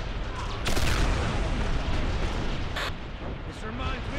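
Video game cannon artillery fire booms heavily over continuous rumbling battle noise, with a few sharper blasts cutting through a dense, loud wash of sound.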